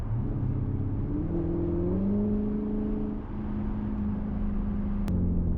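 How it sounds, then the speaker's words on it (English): A Lexus GS-F or RC-F V8 rumbles steadily under the hood, a deep, continuous engine drone that climbs slightly in pitch midway, then holds and settles. No voices. "You just hear that V8 up under the hood rumble."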